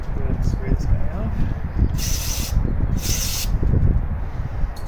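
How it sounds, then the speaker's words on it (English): Two short bursts of hissing spray are aimed at a seized Honda lawn mower, each lasting about half a second, over a steady low rumble and clatter from the workspace. "Go ahead and spray this guy off."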